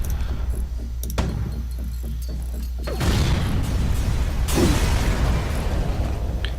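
Missiles exploding aboard a spaceship in the FTL video game: layered booming bursts over a constant low electronic hum, with a heavier blast swelling in around the middle and another soon after.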